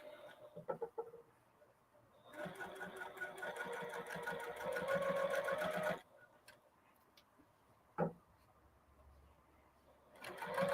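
A sewing machine top stitches a reversible holiday handbag in a steady, rapid mechanical rattle lasting a few seconds, framed by quieter handling clicks and a brief knock, with no talking over the stitching.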